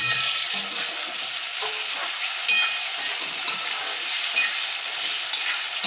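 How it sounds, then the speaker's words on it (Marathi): Tomato fries and gets stirred in hot oil, a continuous bright sizzle with occasional scraping clicks of a spatula against the pan, steady and close with no voices. "त्यांना मस्त तेलामध्ये परतून घ्यायचं. बघा, टमाटा टाकते आहे."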